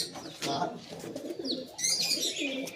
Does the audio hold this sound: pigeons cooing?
yes